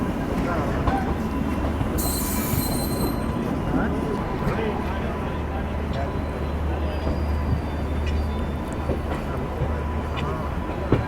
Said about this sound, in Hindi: और ये ट्रेन आ रही है हावड़ा से देहरादून चलने वाली train, Upasana express I guess.